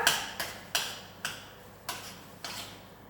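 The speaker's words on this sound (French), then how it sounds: "ensuite on va tout mélanger" A spoon mixing a dish made from canned food in a bowl, six crisp clinks at a steady rhythm, close and quiet with near silence between them.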